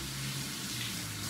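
Tap water runs steadily while a dollar-store flower pot for a spring gnome craft is rinsed, a continuous close splashing flow with no voices.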